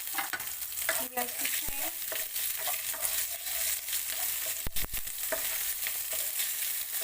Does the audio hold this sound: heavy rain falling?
no